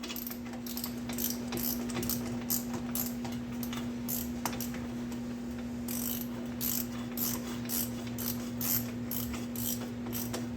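Bolts are ratcheted in on the axle hub backing plate of a 2003 Dodge RAM 3500 dually, a quiet close run of rapid rhythmic ratchet clicks in bursts over a steady hum, no talk.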